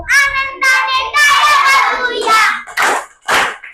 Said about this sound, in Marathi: चला आनंदाने टाळ्या वाजवूया